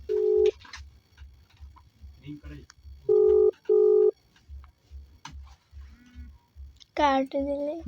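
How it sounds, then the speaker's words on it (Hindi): A phone call being placed, with clear electronic keypad tones and short beeping signals over a steady pulsing ticking pattern, close and loud, with a voice talking between the tones. "अभी फोन लगाइए जरा उनके पास।"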